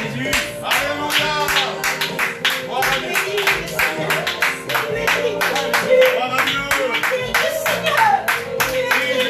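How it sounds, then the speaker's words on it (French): A church congregation claps in steady rhythm during a worship service, sharp regular hand strikes running throughout beneath loud singing voices. "On applaudit Jésus"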